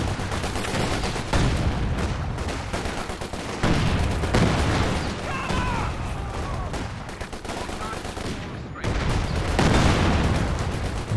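Company of Heroes 2 battle audio carries a dense, continuous roll of artillery barrage and gunfire. Heavy booms and rattling shots hold loud throughout, broken by a few short dips.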